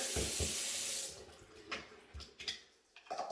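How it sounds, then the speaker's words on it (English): Warm water runs from a bathroom tap in a strong steady stream for about a second, then stops, followed by faint clicks, splashes and handling noises nearby. "So I clean it with warm water."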